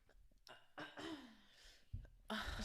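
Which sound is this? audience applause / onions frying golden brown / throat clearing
throat clearing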